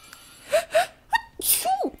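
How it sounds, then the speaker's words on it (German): A person sneezes several times in a quick burst, two close sharp bursts followed by a third and a longer, breathy final one, loud and close with no talk over it. "ich musste gerade so dringend niesen"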